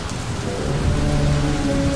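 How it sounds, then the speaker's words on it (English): Heavy rain pours down during a raging storm at sea, with low rumbling thunder rolling beneath the dense, constant hiss, loud and close with no voices. "There is a storm outside and the ship is going to be torn apart."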